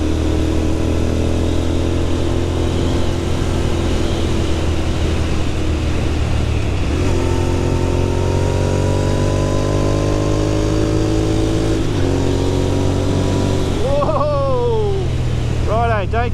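A Royal Enfield Continental GT 650 Twin motorcycle rides through twisty roads, its engine droning loudly and shifting pitch as it accelerates and changes gear, with a rider's voice talking over it and wind noise.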